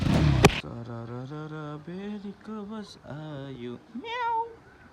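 A cat meows repeatedly at close range, a series of drawn-out, wavering cries, after a brief loud rustle at the start; a human voice also seems to imitate the meow.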